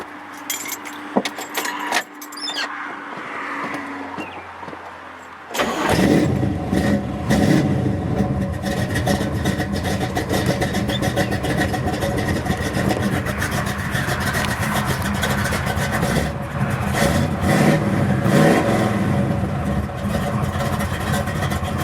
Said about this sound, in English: I'll get this fired up and give you an exhaust note.